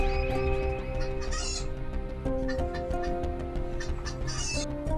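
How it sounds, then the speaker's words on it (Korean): A rooster crowing is played over a loudspeaker in a village setting, with long, loud clucking calls running throughout. A few shorter, higher calls sit on top of them. "스피커로 닭 울음소리를 들려주자"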